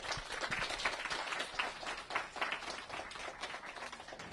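A school audience applauds students for a film they made, a modest, fairly distant patter of clapping that continues steadily without voices.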